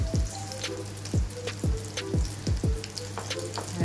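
Salmon potato patties frying in a pan, a close steady sizzle with regular bubbling pops and spattering crackles throughout.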